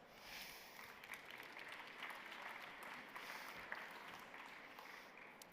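Conference audience at a tourism event clapping as founder Cyril Guiraud is introduced, a quiet, distant, even patter of many hands lasting several seconds, faint throughout.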